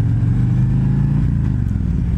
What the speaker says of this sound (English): The engine's wailing away and everything.